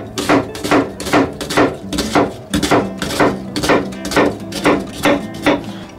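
A kitchen knife minces an onion on a cutting board in quick, even chops, about two strikes per second. Each one is a sharp knock, close and loud, and no voice is heard.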